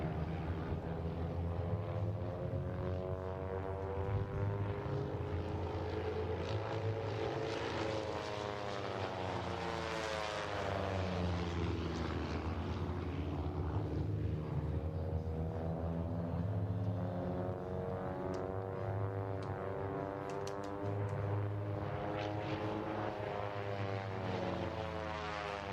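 Aerobatic propeller plane at an air show performing inverted passes over the runway, its droning engine loud and continuous with a rising and falling Doppler sweep as it flies by, without any talk.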